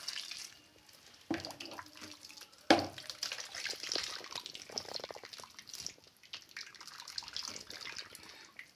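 Liquid is poured over a baking tray of an eggplant diet dish, giving a close, trickling, splashing pour with a few sharp knocks. No one speaks.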